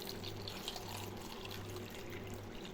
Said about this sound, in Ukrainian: Все, заливаємо розсолом.